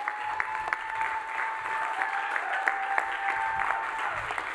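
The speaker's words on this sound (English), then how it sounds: "Keep on clapping." Congregation at a church service keeps clapping hands, a steady crowd patter with a few sharper individual claps standing out, accompanied by a sustained musical tone underneath.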